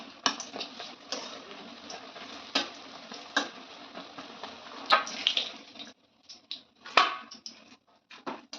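Eggplant fritters fry in hot oil, sizzling steadily with sharp crackles and pops, then quieter intermittent spatters near the end.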